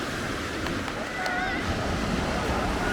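Calm sea waves washing onto a Baltic beach at Lubiatowo, a steady soft wash and hiss of surf mixed with wind noise across the microphone, continuous throughout.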